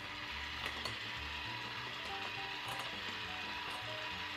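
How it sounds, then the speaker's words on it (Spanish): Electric hand mixer beating dry ingredients into a chocolate cake batter, a steady whirring drone with a scraping, gritty rattle running through all of it. "vamos a pasar a integrar todos los ingredientes secos con ayuda de la batidora de nuevo"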